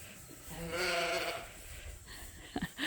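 A sheep on a farm gives one drawn-out wavering bleat, close and clear, followed by softer rustling and a few short thumps.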